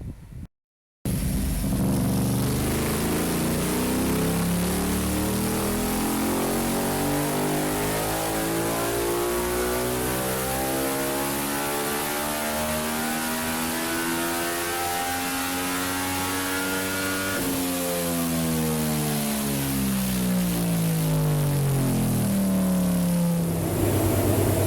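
An Aprilia RS660 race motorcycle engine on a dyno, starting then revving hard and continuously, pitch climbing steadily, dipping sharply partway and climbing again; loud, close and sustained with no talk.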